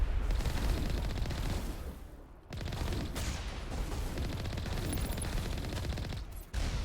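Rapid, sustained weapon fire and explosive blasts in the video game Mass Effect, with rocket launcher shots from an enemy mixed into dense, loud gunfire that runs almost continuously, with only brief dips.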